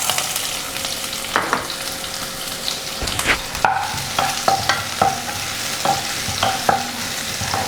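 Chopped shallots drop into hot coconut oil and fry with a bright, steady sizzle, while a utensil stirs and scrapes the pan in a series of close, distinct knocks.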